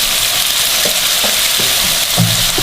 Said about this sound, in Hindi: अदरक लहसुन को फ्राई करेंगे